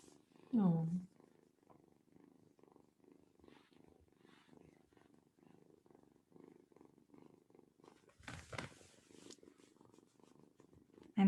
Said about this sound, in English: I imagine you guys can hear the purring through the microphone because it's a good microphone.